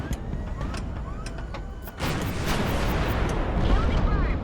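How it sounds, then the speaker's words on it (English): An AK-100 artillery barrage in the Highfleet video game: a run of sharp, heavy blasts at irregular intervals, then a louder, continuous roar of rumbling fire and explosions. "I'm just going to try and take these out with a big AK-100 barrage"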